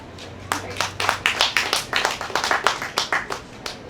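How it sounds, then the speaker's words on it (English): A small audience claps after a poem at a street festival reading, a brisk burst of scattered, close hand claps that starts abruptly and tapers off after a few seconds. "I want to thank you for your applause for that poem"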